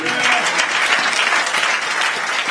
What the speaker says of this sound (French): Clap for him. Acclamez pour lui.